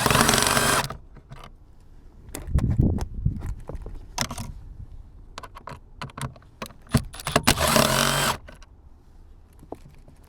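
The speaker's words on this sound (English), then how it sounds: "So take your screwdriver and go ahead and take them out." Screwdriver backing out Phillips screws from a 2003-2008 Toyota Corolla/Matrix rear cup holder, close irregular clicks, ticks and rattles with a few louder bursts of handling noise.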